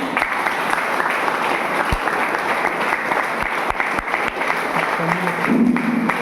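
Sustained applause from an audience at a business meeting, steady dense clapping filling the whole stretch at close range with a few sharper individual claps standing out.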